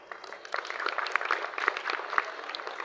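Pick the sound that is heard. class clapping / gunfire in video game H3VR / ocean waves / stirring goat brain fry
class clapping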